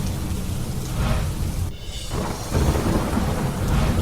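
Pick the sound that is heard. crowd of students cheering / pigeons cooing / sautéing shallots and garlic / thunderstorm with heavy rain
thunderstorm with heavy rain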